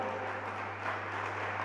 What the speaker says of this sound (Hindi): इसलिए एक जोरदार बजाओ ताली।